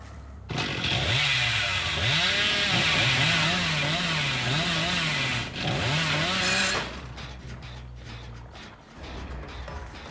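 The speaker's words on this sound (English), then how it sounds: "We're going to use the chainsaw." The Hillbilly's chainsaw in the video game Dead by Daylight, a loud, close, revving roar whose pitch rises and falls in repeated waves before it cuts off into quieter game noise.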